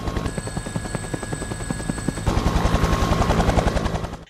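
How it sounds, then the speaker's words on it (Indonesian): A helicopter from the thriller Prey beats with a rapid, steady rotor chop, a tonal whine running over it, growing a bit louder as it approaches from a distance, then fading slightly at the end. "Mereka seolah punya harapan saat mendengar suara helikopter dari kejauhan"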